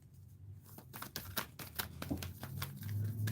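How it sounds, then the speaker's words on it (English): Tarot cards shuffled by hand during a live reading, a quick run of crisp riffling snaps and papery flutters, fairly close and steady with no talk over it. "1 more shuffle and I'll pull from the top."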